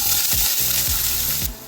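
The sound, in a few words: oil sizzling as it heats in a pan for fish curry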